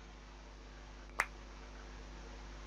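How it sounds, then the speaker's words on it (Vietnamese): A single sharp hand clap from the video game Nekopara sounds once, brief and isolated against a quiet steady background hum. "Tiếng vỗ tay."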